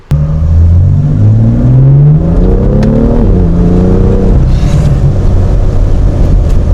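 A repaired BMW M2's engine revs up loud and close, its pitch climbing through several gear-like sweeps before settling into a steady rumbling roar with wind buffeting.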